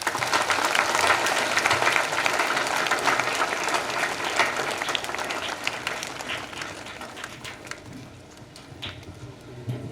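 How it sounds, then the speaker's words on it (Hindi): Loud, dense applause from a congregation at a Catholic priestly ordination ceremony in Kuamunda, a steady wash of many hands clapping that slowly thins and fades toward the end. "सब मन मिल के जोरदार ताली बजा"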